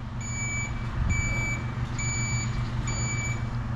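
Proximity sensor on a Mercedes Actros truck beeping on a rainy day: four evenly spaced electronic tones repeat about once a second over a low, steady engine idle, with no talking.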